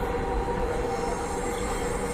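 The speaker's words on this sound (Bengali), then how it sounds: "পুরো মেট্রো রেলটাই দেখাই দিই নাকি?" A Dhaka metro rail train running, a continuous loud rumble with a faint high steady whine over it, heard from close by without speech.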